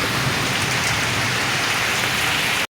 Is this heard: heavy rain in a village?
yes